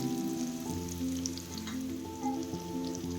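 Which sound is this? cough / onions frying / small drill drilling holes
onions frying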